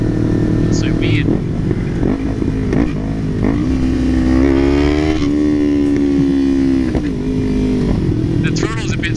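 Sport motorcycle such as a Kawasaki Ninja 300 or Yamaha YZF-R15 being ridden, its engine droning steadily and rising in pitch as it revs, heard up close under a rider's ongoing talk.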